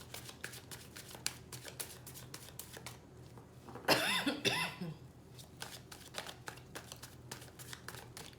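Tarot cards are shuffled by hand in a quiet room, a rapid run of soft, papery riffle clicks, close and fairly faint, broken by a brief louder rustle in the middle.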